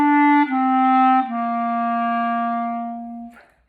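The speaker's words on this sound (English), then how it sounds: "legato means tongued, but it's really smooth and really connected" Clarinet plays smooth, connected legato notes, three sustained tones gliding into one another with soft tongued attacks, clear and close with no other sound.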